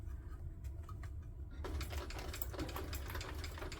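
A sewing machine basting the side seam of a crossbody hip bag, running in a steady fast whir that grows busier partway through, close and fairly quiet.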